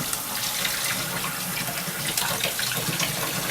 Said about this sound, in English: Now, all this part of the gun will get rinsed with reasonably warm hot water.